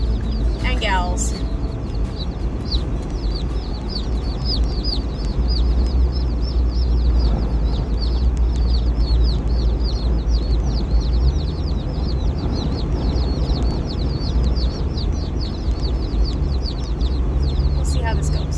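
A group of Red Ranger broiler chicks peeping steadily and rapidly in a busy, continuous chorus over a low rumbling background.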